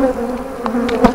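Honey bees buzzing loudly on hive frames during a beekeeping inspection to prevent swarming, a dense close droning hum with a few brief knocks near the end and no talk.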